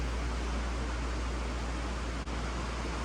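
Rain falls outside during a Ford Ranger tune-up, a dense, even hiss that stays steady and fairly close throughout with a single tiny break.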